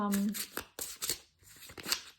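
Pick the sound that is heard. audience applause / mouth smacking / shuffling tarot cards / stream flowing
shuffling tarot cards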